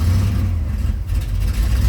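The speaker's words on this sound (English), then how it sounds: "You can hear how loud the car gets when you open it up." A 1969 Camaro's supercharged, fuel-injected big-block V8 rumbles loudly close by with the exhaust cutout open, a steady heavy roar with slight fluctuations.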